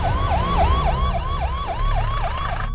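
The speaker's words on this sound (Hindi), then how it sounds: "जल्दी एम्बुलेंस लेके। एम्बुलेंस भाई" An ambulance siren wails in a steady, rapid rising-and-falling cycle, loud and close, over a low rumble of traffic, in a scene from a Bhojpuri film.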